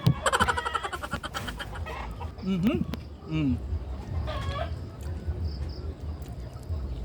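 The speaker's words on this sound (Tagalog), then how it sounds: "Ingay ng mga manok natin guys." Chickens clucking and squawking nearby over a noisy, busy background, with people talking and insects buzzing faintly throughout.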